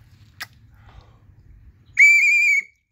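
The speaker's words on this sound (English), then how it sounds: "I just found a whistle collection." An old whistle found in a storage unit gives one shrill, steady blast of about half a second after a faint click, clear and close in a quiet room.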